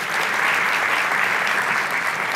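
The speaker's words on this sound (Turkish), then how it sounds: "Alkışlarla." A studio audience at a Turkish comedy talk show breaks into applause. It is a dense, steady burst of clapping that holds at an even loudness throughout, with no speech over it.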